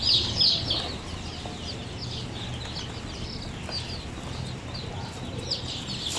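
Basilan native chicks, a batch of about a hundred, peeping continuously in a high chorus over a steady low background hum, fairly close and unbroken throughout.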